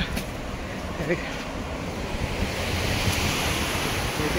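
Water pours through the open gates of the Mallemadugu reservoir dam, a steady broadband rush with wind noise on the microphone, continuous and fairly loud throughout.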